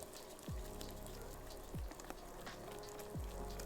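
Banana pancakes frying in a pot with a lot of oil give a steady, faint crackling sizzle, with three soft low thumps spaced about a second and a half apart.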